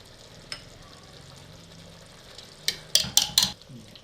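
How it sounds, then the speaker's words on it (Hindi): Potatoes frying with mutton in a handi for Afghani-style aloo gosht, a soft steady sizzle with a quiet stir, then several sharp clanks of a spoon against the pot near the end. "दो मिनट के लिए आलू को अच्छी तरीके से इसमें भून लेंगे।"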